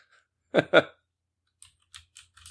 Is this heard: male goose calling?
no